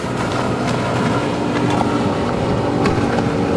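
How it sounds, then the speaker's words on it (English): Tow boat engine running at a national waterski race at Hunstanton, a steady close motorboat drone with wind buffeting the microphone, continuous throughout with no talk. "the boat closest to us, that's Rod Hawkins."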